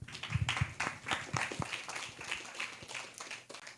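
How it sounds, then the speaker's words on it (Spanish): Applause from an audience at a Peruvian conference on subnational protected areas, greeting a presenter named Michelle; a modest crowd claps in scattered, uneven bursts for a few seconds, fairly quiet and a little distant. "Un fuerte aplauso para Michelle."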